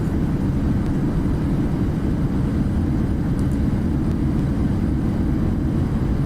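Steady, loud broadband roar of Boeing 737-800 jet engines in reverse thrust during a landing rollout on a short runway in a flight simulator, a continuous unbroken rumble with no talk over it.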